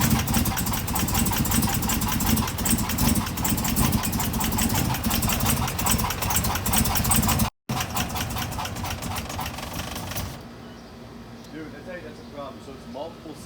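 A 2016 Camaro engine idles unevenly with several cylinders misfiring from a cracked valve spring, a loud, steady, close mechanical chatter with rhythmic ticking that drops off sharply after about ten seconds into a quieter rumble.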